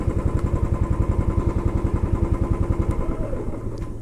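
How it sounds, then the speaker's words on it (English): A Triumph Thunderbird motorcycle engine idles close by while being parked, a steady rapid low thumping pulse that holds even and loud, easing slightly near the end. "Just parking the bike"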